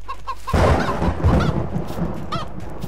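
Chickens cluck in Minecraft, several short bursts over a low game background, loud and close after a quiet opening.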